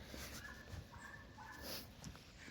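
A dog gives a few faint, short yips and whimpers at a beach state park campground in winter, distant and quiet over a soft outdoor background hiss.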